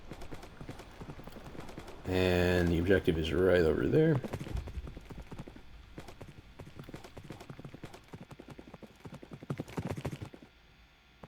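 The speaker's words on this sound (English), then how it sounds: "these horses cannot jump very high" Horse hooves clip-clop in a steady, quick rhythm in the Minecraft Dungeons video game, with a louder burst of game sound early on, while a person talks over it throughout.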